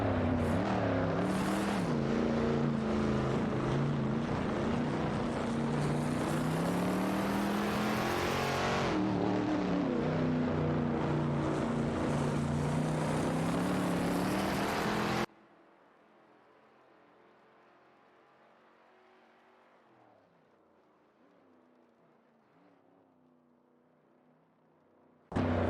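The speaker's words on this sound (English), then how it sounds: "Androvich and Jasak 72 are both driving the Dodge Charger Superbie 71." Race cars, including a Dodge Charger Superbie, roar along in a racing video game, engines revving and shifting loudly and continuously before cutting to a much quieter stretch of faint engine drone near the end.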